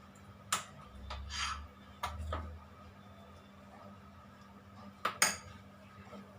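A utensil clinks and scrapes against a bowl as cake batter is mixed, with a few sharp taps and softer stirring strokes spread out in a quiet room.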